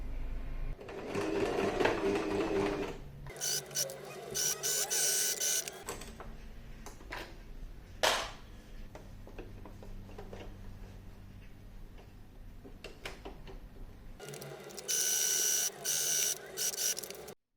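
A sewing machine stitches a fabric pouch in loud, fast rattling runs, starting and stopping in several bursts with quieter pauses and a sharp click in between.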